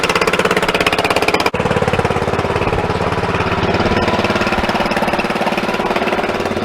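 Small engine without a muffler roars loudly and steadily at close range, a rapid harsh firing rhythm with one brief dip early on, then continuing unbroken.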